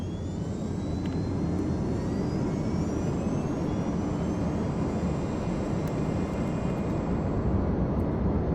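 Boeing 767-300 jet engines in the FSX flight simulator roar through a takeoff roll, a dense, continuous, loud low rumble with a faint whining tone sliding upward above it.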